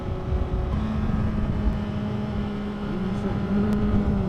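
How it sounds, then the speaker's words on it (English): A 2017 Honda FireBlade SP motorcycle engine drones steadily, with a shift in pitch as it changes gear without the clutch, heard with wind rush and riding noise. "See, now the clutchless downshift just then, not as smooth as on the Panigale"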